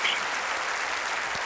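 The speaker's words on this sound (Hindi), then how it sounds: "तालियां बजाते हैं हम आपके लिए और आपका अभिनंदन करते हैं" Studio audience applauding a game show winner, a steady dense burst of clapping throughout with no talk.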